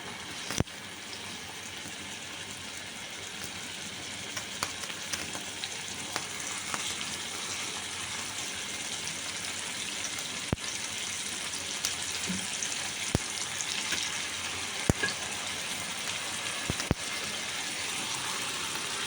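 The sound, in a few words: fish frying in a pan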